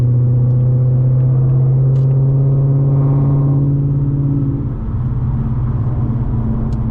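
A modified 800 horsepower 2025 Mustang GT rolls along on an evening cruise, its engine a loud, steady low rumble heard from inside the car that dips slightly as it eases off.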